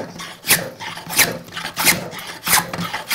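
A hand plane shaves wood to taper a Shaker table leg, making repeated rasping strokes about every two-thirds of a second. The strokes are close and steady, with a rough, breathy scrape on each pass and no talking.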